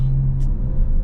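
Low, steady exhaust rumble from an Audi B9 S4 running a 034Motorsport TTE710 Stage 3 tune, a deep close drone with a short crackle near the middle, lasting about a second.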